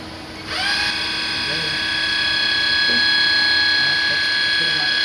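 A Mugatech TT-60 CNC lathe spindle spins up to 2,000, a steady high whine with a clear rising pitch at the start that then holds evenly and loudly over a low machine hum, with faint background knocks.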